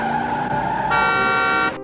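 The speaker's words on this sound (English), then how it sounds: "This car is driving too fast." A speeding car rushes past with its horn blaring, a steady engine roar that swells into a loud, sustained honk and then cuts off abruptly.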